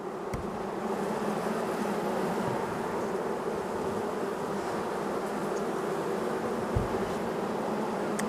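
Honey bees drone steadily at a hive after autumn feeding, a dense continuous buzz without pause, close and even in loudness throughout.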